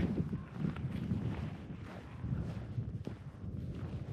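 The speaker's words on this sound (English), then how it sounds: "At the same time, there's this super Arctic cold wind." Cold Arctic wind buffeting outdoors in Lofoten, a steady low roar and rumble with gusty swells and a few sharp knocks, close to the microphone and fairly loud.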